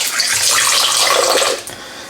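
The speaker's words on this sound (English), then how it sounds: "So I'm just going to give this a quick rinse." An espresso machine's group handle rinsed under running tap water, a loud close rush of water that stops abruptly near the end.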